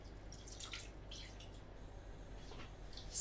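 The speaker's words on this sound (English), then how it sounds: "Pour the Chablis in." Chablis white wine is poured into a dish holding trout, giving soft, uneven trickling and dripping splashes at a low level throughout, with no voices.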